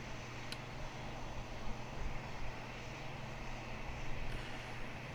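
An airplane taxiing in the Roblox game PTFS: a steady, low engine drone holds evenly at moderate volume with no speech.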